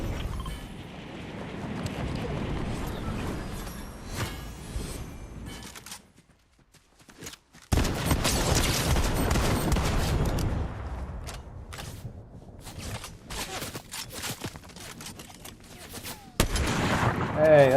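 First-person shooter gunfire, sustained rapid bursts and scattered shots that stop briefly, then return louder in a dense volley with sharp individual cracks, with occasional game sounds mixed in.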